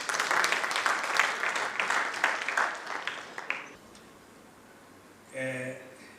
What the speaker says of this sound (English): May you kindly give them a round of applause.